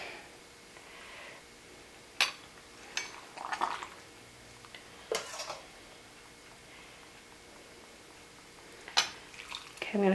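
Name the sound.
stirring pickling liquid with dill seed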